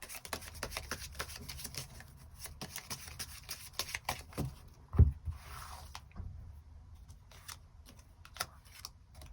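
Tarot cards shuffled by hand for an extra draw: soft, close, continuous rustling and riffling with small flicks and one sharper snap midway, no talking.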